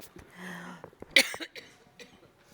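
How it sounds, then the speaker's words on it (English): A person coughs several times in a short, harsh burst, close and fairly loud, with a quieter throat sound before it. "I chose a good time to have a coughing fit."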